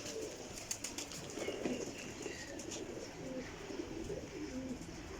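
Flying pigeons in a breeder's loft, several birds cooing close by in low repeated throaty calls, with faint wing flutters and a light background hum and no talking.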